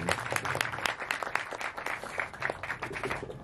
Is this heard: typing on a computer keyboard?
no